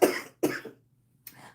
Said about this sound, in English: I was trying to stay calmer today so I wouldn't cough as much.